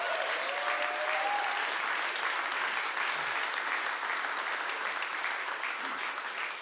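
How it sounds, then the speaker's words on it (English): Audience at a solar energy product launch breaks into steady applause, a dense even wash of clapping that carries on for several seconds, moderately distant, with a faint voice briefly audible near the start. "I think after 2 years that's worth an applause."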